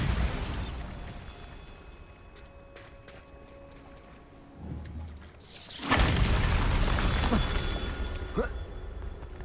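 A Bombarda blast spell goes off in the fantasy game Hogwarts Legacy, a sudden loud burst around the midpoint that leaves a roaring, crackling wash of debris and rumble, with a character's voice calling out over it.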